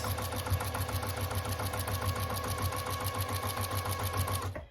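A sewing machine runs steadily, stitching binding onto a quilt, its rapid needle rhythm continuous and close before stopping abruptly at the end.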